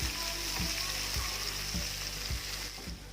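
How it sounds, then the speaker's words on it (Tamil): Onions and tomatoes fry in a pan with a steady, close sizzle, while a spoon stirs them in a slow rhythm of soft scrapes about every half second. "வெங்காயம் நல்லா இந்த அளவுக்கு வதங்கின உடனே நான் இதில் ஒரு 2 தக்காளி பழம் சேர்த்துக்கிறேன்."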